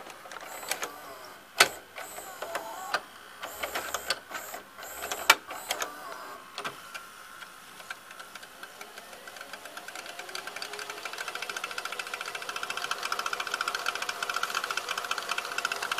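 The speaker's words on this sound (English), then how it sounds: "So, now I'm going to put in the forward wind." A VCR winds a VHS tape on fast-forward, starting with clicks and mechanical clunks as the mechanism engages. A faint whirring motor then rises steadily in pitch as the reels speed up.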